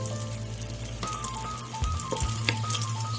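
Eggs sizzle in a hot, well-warmed pan for breakfast tacos: a steady, close frying hiss that runs throughout, with a low hum beneath it.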